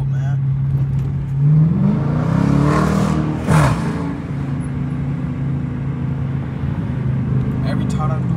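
A Dodge Challenger R/T on bald tires revs and pulls hard in traffic, a loud sustained engine drone that rises and falls, with a speaking voice over it.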